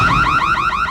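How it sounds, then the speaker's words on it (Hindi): A burglar alarm wails with a rapidly warbling electronic siren tone, loud and close, cycling in quick repeated sweeps with no talk over it. "ये तो चोर अलार्म है।"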